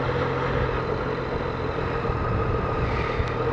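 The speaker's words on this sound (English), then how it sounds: "A little light aircraft having a look across as well." A light aircraft drones steadily overhead near the Newry Canal, a continuous engine hum heard alone under a broad wash of outdoor noise.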